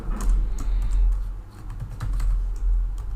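Someone types code on a computer keyboard in close, quick bursts of key clicks with short pauses between them, over a low hum. No one talks.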